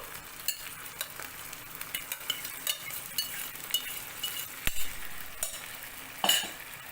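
A spoon stirring a yogurt mixture with moong beans in a pan, repeated scraping and light clinks of metal against the pan over a soft steady sizzle, close and unhurried.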